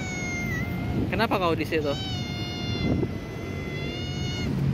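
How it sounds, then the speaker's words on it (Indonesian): A cat meows a few times, close by on a Jakarta street, with a steady background hum, while someone speaks to it and over it. "Ada kucing. Kenapa, Cing?"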